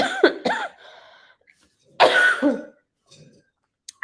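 Several close, sharp coughs and throat-clearing bursts separated by quiet pauses, with a faint click near the end.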